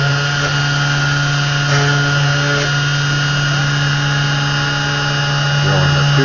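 A 3018 Pro CNC router drills reference holes in a printed circuit board, giving a steady, loud motor whine with a constant pitched hum and faint grinding changes as the bit works, with no talking.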